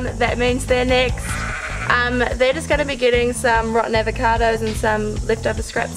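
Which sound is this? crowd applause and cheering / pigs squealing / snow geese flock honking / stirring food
pigs squealing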